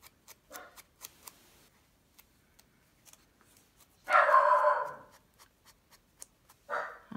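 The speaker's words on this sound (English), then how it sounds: "I'm so sorry that little guy is barking." A small dog barks a few times from a short distance, one longer bark then a shorter one, between soft ticking and clicking sounds in an otherwise quiet room.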